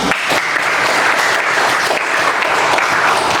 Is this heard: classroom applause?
yes